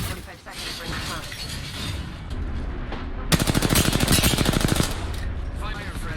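Rapid automatic gunfire bursts out in Apex Legends, a dense fast rattle lasting about a second and a half, over steady game ambience and background noise, with a voice talking nearby.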